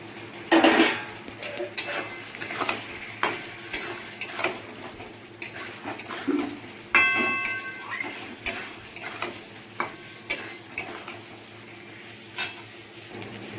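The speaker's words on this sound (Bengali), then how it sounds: "এবার আমি আলুটা দিয়ে ভালো করে কষাবো" Potatoes stir-fried with spices in a pan for an amra dish, rhythmic spatula scrapes and clinks against the pan repeating every second or so over a low sizzle.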